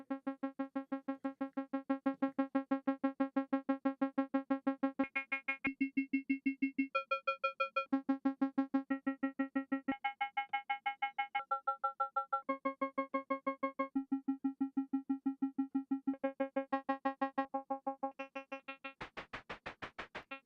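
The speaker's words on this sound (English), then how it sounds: "I think this is more kind of an FM waveform thing" A steady, buzzy FM waveform from a Moog Mother-32 Eurorack modular synthesizer pulsing rapidly while its timbre shifts between bright metallic variants, ending in a brief burst of harsh noise from the noise waveform.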